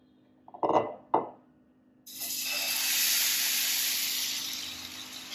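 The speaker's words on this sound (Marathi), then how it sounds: "काकडीचे चिल्ल्याचं पीठ टाकू।" Cucumber chilla batter hits a hot tawa: a couple of brief clinks, then a loud, steady sizzling hiss that holds to the end, with no voices.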